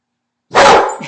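A dog lets out a single loud, close bark after a moment of silence, the sharp burst trailing off quickly.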